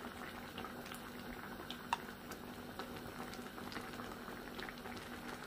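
Ginataang kalabasa, squash and shrimp in creamy coconut milk, bubbling at a steady simmer with soft continuous popping and gurgling close by, no voices over it.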